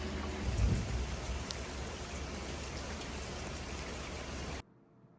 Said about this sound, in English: It's pouring rain today. It is downpouring rain today